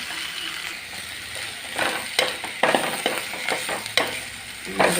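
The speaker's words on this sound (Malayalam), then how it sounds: "വെണ്ടയ്ക്കായ ഉരുളക്കിഴങ്ങെല്ലാം ഇട്ട് കൊടുക്കും. അതൊന്ന് ഉപ്പിട്ട് കൊടുക്കാം. ഉപ്പിട്ട് ശരിയാവുന്നവരെ ഇളക്കി അടക്കി വെക്കും." Okra and potato pieces fry in a pan while a spoon stirs them, giving a soft sizzle broken by several scraping, clattering strokes that grow livelier toward the end.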